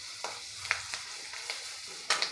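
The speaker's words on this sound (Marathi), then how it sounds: "यामध्ये घालायचं आहे आपण कांदा, कोथिंबीर, आलं लसूण याचं वाटण केलेलं, ते यामध्ये आपल्याला परतून घ्यायचं आहे" Onion, coriander and ginger-garlic paste sautéing in hot oil for a Maharashtrian brinjal curry, a steady close sizzle with several sharp stirring scrapes and clinks against the pan.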